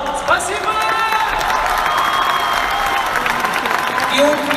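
Arena audience at a televised Song of the Year New Year concert applauds and cheers, a steady broad wash of clapping and crowd noise with whoops rising throughout, loud and sustained.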